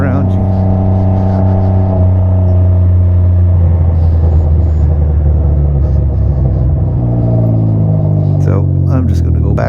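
Loud exhaust of a 2021 Can-Am Ryker Rally three-wheeler, a deep rumbling engine note that shifts pitch as it revs and settles, close and dominant throughout.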